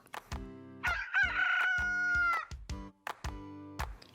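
A single drawn-out rooster crow rises over a bouncy musical backing with steady beats, loud and close.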